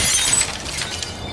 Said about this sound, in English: Now a stylish glass coffee table.